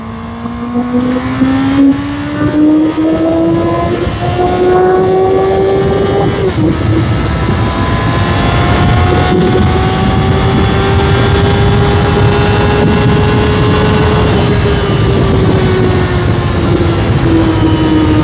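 A Honda CB650R motorcycle engine revs hard in third gear toward 12,000 rpm, its loud, steady whine climbing in pitch, dipping briefly at a shift or throttle change, then rising again close to the microphone.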